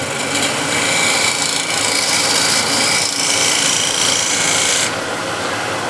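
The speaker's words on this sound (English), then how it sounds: "shear scraper" A shear scraper cuts across a spinning wooden hexagon plate in a continuous dry, rasping scrape, loud and close, easing off slightly near the end.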